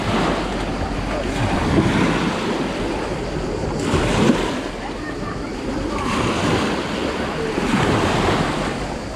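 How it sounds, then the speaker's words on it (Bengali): Continuous roar of sea waves breaking on a beach near Genoa, Italy, swelling and easing in repeated surges, with wind buffeting the microphone. "ভালোই ঢেউ এখানে"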